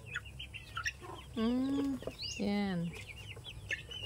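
Farmyard hens with a brood of chicks on a Philippine province farm give two drawn-out, wavering calls, with faint chick peeps scattered around them and a brief spoken word nearby.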